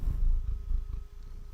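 A cat purring while it rubs against a microphone, heard as a close, low, rough rumble with soft muffled bumps and brushing. It lasts only a moment and no one talks.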